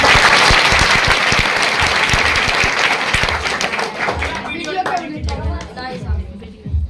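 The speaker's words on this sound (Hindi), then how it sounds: "आप सर के लिए एक बार जोरदार ताली।" Loud applause with sharp hand claps from students and staff at a school Children's Day celebration, strongest at the start and thinning into scattered claps and some talk toward the end.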